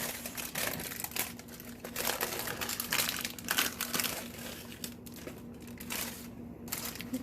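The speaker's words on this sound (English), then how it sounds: "I just want to get the wax paper off." Wax paper crinkles and crackles as it is peeled away from a slab of set homemade fudge, a close, steady run of papery rustling with no talking.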